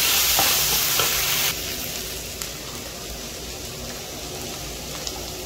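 Vegetable momo filling with capsicum being stirred in a hot pan, a broad, close sizzle that drops sharply to a calmer hiss partway through, dotted with light scraping clicks.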